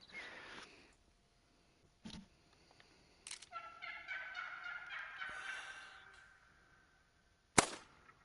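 Wild turkey gobbling in the hunting game theHunter: Call of the Wild, a rattling gobble sequence mid-distance following a couple of sharp clicks, with a loud snap near the end.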